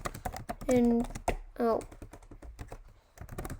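C source code being typed on a computer keyboard into a terminal file: a quick run of close, crisp key clicks with a short stretch of talking over part of it.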